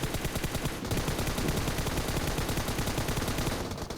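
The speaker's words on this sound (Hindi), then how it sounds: "यहाँ फायरिंग हम करते हैं" Rapid gunfire from a sniping video game plays as a continuous fast burst of repeated shots, loud and steady for several seconds with no talking.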